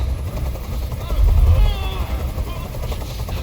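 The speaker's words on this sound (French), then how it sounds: "Je peux plus supporter ce bruit. Fais dégager cet hélicoptère, maintenant!" A video game helicopter's rhythmic thudding rotor drones steadily in the background while a person talks over it, the engine noise swelling briefly midway.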